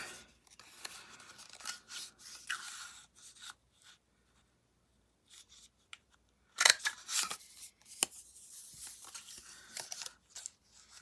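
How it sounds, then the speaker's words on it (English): Scissors trimming material, a few sharp close snips and soft rubbing of fabric in an otherwise quiet room, with short gaps between cuts. "I'm just going to trim that there."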